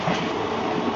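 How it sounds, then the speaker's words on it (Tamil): A passenger express train runs past Kodambakkam toward Chennai Egmore, a loud steady broadband rush and rumble of wheels and carriage noise heard from inside. "நம்ம ட்ரெயின் கோடம்பாக்கம் தாண்டி போயிட்டுருக்குங்க."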